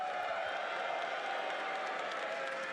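A live audience at a Chicago RuneScape Deadman esports event cheers and applauds steadily, a dense, continuous crowd roar at moderate distance with no break.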